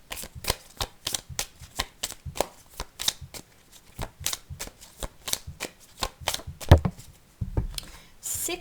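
Tarot cards drawn and handled from a deck, a quick irregular series of crisp snaps and flicks, close and quiet, with a brief thump near the end.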